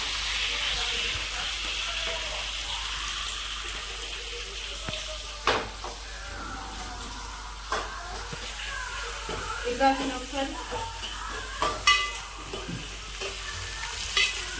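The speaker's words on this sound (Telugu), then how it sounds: "ఇందులో మనం కొంచెం కరివేపాకు వేస్తున్నాం. తర్వాత వచ్చేసి ఉల్లిపాయలు." Curry leaves and then onions fry in a pan for a capsicum tomato curry, a continuous hiss with occasional sharp spatters and stirring scrapes that grow busier toward the end, with a voice talking over it.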